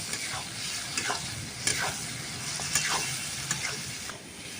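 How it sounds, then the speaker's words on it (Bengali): Clams frying with onions in a pan, a steady close sizzle broken by several sharp scraping stirs of a spatula against the pan, with no voices. "ভালো করে পেঁয়াজের সাথে আমি ঝিনুকটাকে ভেজে নেব"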